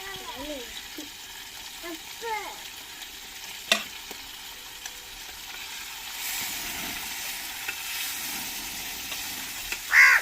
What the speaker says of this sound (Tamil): கனவா மீன் நம்மளுக்கு ஒரு சைடு வெந்து வந்துருச்சு, மறு சைடு பெரட்டி போட்டுக்கிறோம்